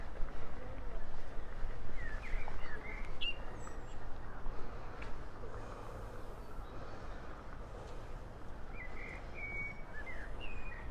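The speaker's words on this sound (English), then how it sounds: "Listen to the birds." Birds sing and chirp in a London Royal Park, with scattered calls over a steady bed of outdoor background noise and distant murmuring voices.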